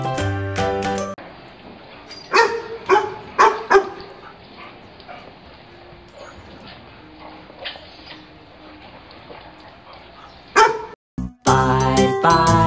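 A dog barks in a short series of sharp yaps near the start, over a background of light music, with a jingling tinkle and a brief bright musical sting at the end.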